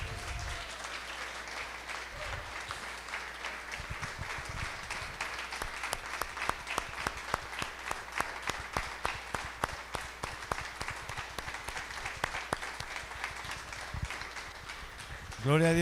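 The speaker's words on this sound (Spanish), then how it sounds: "¿Por qué no le das más fuerte ese aplauso al Señor?" A church congregation claps together through a Sunday celebration service, the applause sustained and swelling into rhythmic, unified beats, with a low steady hum underneath and a brief burst of louder noise at the very end.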